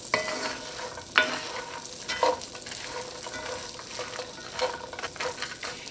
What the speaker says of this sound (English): So we're just going to get those coated in butter, and we're just going to let them toast for about a minute.